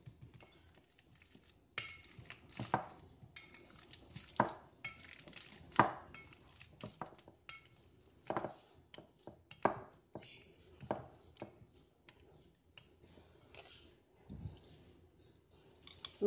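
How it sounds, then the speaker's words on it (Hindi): Ripe bananas being mashed for banana bread in a bowl, giving close, irregular squishy thuds and light clinks of a utensil against the dish, with no talking. "अब इन केलों को मैश कर देना है"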